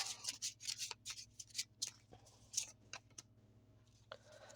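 Tarot cards being handled and shuffled at close range, a quick run of crisp papery flicks and snaps in uneven bursts over a low steady hum, with no talking.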